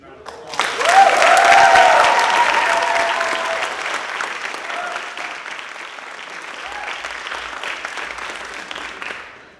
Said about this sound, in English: So if we could give Nathan and Ruth a huge round of applause